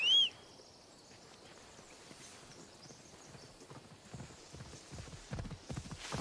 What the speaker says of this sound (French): on va appeler notre cheval